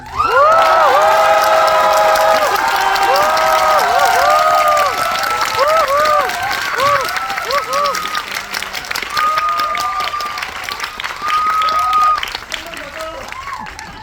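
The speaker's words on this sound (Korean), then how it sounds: "한번 크게 한번 함성과 박수 한번 보내주세요" A theater audience at a Korean film's first guest-visit screening roars with loud cheers, screams and shouts over dense continuous clapping, the high voices easing slightly midway before swelling again, then tapering off.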